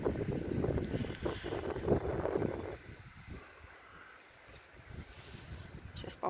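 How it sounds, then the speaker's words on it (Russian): Wind buffets the microphone in loud, rumbling gusts on the Volga embankment in Kineshma, easing off partway through and leaving a softer, fluttering roar. "ветер у нас сейчас здесь поднялся"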